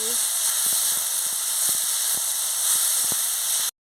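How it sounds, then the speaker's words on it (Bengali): Bitter gourd frying in hot oil gives a steady bright sizzle with a few light clicks of stirring, then it cuts off abruptly near the end. "তেল গরম হয়ে গেছে আমি উচ্ছেটা দিয়ে দিচ্ছি ভালো করে ভেজে নিচ্ছি"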